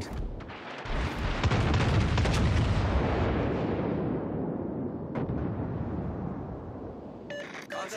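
Video game artillery fire booms out in a heavy rumbling barrage, deep blasts rolling together for several seconds before tapering off, with a faint radio-style voice briefly at the end.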